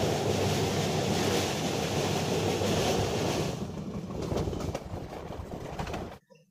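A train crosses the Barakar river bridge, a loud steady roar of wheels and rushing wind that thins into rhythmic clattering halfway through before cutting off abruptly at the end.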